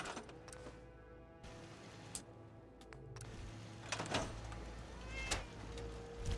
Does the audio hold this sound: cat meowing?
yes